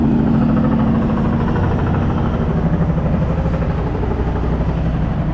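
Big trucks idle at an asphalt paving job site, a loud, steady low diesel rumble with a pulsing, throbbing texture that holds evenly throughout, close by.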